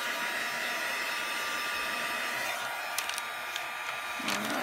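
A dryer blows over a freshly painted, wax-resist journal page. It makes a continuous, loud, close whir with an even airy hiss and no pauses.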